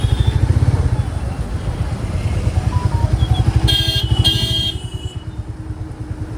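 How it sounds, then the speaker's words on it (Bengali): A motorcycle creeping through a traffic jam on a busy road beside parked cars, its engine running steadily up close with a brief burst of clatter from surrounding traffic before the sound settles. "কি জ্যাম এখানটা!"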